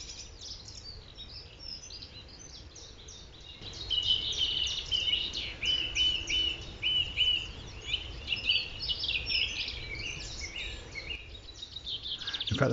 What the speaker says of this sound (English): There's also a song thrush singing at the same time